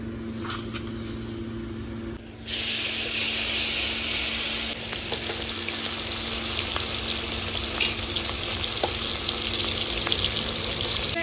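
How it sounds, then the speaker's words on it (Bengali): Spice-coated silver carp pieces go into hot oil: a quiet kitchen background suddenly bursts into loud, close sizzling that holds steady, with occasional crackles. "তেলটা গরম হয়ে গেছে, এবার মাছগুলো একদম কড়া করে ভাজতে হবে কিন্তু।"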